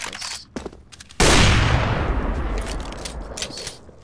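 Rapid burst of gunfire from a rifle firing through a wall in Counter-Strike: Global Offensive on the Cache map, loud and sustained after a few softer clicks, with a long ringing decay.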